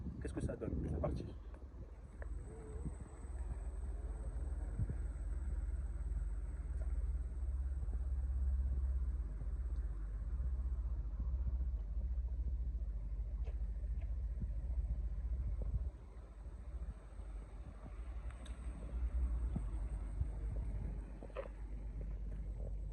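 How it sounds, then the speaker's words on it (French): A Xiaomi M365 electric scooter with its speed limit removed, ridden outdoors: a constant low rumble with wind buffeting the microphone throughout, while a person talks over it. "on la teste maintenant, on va faire un petit tour avec"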